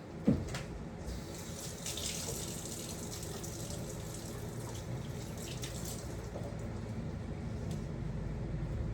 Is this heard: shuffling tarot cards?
no